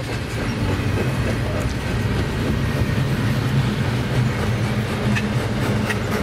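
A train rolls past steadily on the tracks at West Colton, San Bernardino, a loud continuous rumble with clickety-clack wheel noise and faint metallic squeals, close by and unbroken throughout.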